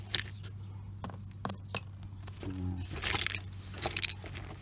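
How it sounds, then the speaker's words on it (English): Coins pulled from mud clink and jangle together in a string of sharp metallic taps, some bunched into quick clusters, over a steady low hum. "Coin."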